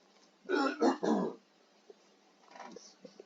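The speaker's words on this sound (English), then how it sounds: "Let me clear my throat." A man clears his throat with a few harsh, rough bursts close to the mic, then goes quiet apart from faint small mouth and room noises.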